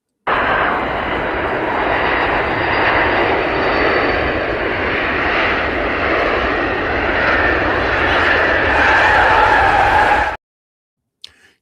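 An airplane landing sound effect plays from a soundboard, a loud, steady roar of a fixed-wing aircraft engine lasting about ten seconds before cutting off abruptly, with no talking over it.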